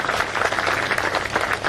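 Applause from an audience at a foundation-stone ceremony for a civil court building in Devgad, a steady crowd clapping that holds at even loudness for its whole length.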